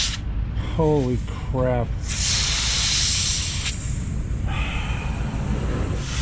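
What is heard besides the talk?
air hissing from a leaking truck airline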